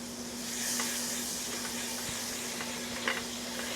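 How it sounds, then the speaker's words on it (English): Butter and all-purpose flour sizzling in a pan as a roux for a cheese sauce, a steady soft frying hiss with faint stirring scrapes throughout, fairly quiet and without talk. "let's add some butter. We are going to add equal parts all-purpose flour"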